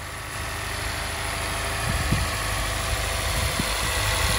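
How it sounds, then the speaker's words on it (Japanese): A Honda S2000 AP1 engine just started and settling into a steady, even idle, a constant mid-low hum with slight vibration and no voices over it. "ではエンジンかけてみます。"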